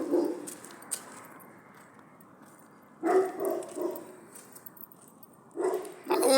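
A dog barking in short bursts, a couple of loud clustered barks separated by quiet stretches, fairly close.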